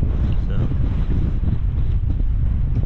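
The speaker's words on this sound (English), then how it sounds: "It's fairly windy." Steady, strong wind buffeting the microphone with a constant low rumble and roar throughout, on the coast near Barra airport.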